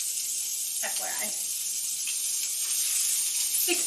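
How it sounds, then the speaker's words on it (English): Steak frying in a pan makes a steady, bright sizzle and hiss throughout, with a few faint spatters or soft voice-like sounds mixed in. "60 seconds of sizzle."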